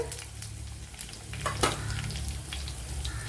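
Garlic cloves, ginger and green chili sizzling in a hot pan for a carrot masala curry: a steady frying hiss with occasional sharp crackles and a soft stir near the middle.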